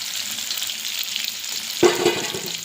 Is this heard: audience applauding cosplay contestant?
no